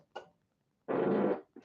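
A close, loud fart lasts about half a second, with shorter sputtering bursts just before and after it, in an otherwise quiet room.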